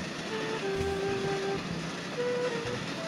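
Train carriage rumbles along under a faint horn-like tone, a steady close rolling noise with occasional soft clacks, in a railway setting.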